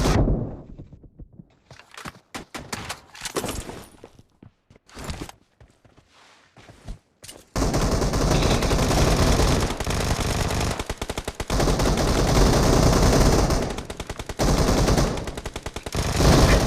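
Bursts of automatic gunfire and single shots in the battle game PUBG, sparse clicks and thuds at first, then long loud sustained volleys of rapid fire.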